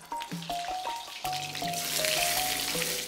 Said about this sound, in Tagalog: Pan-grilled ang drama ng marinated chicken breast na locally grown in Sagada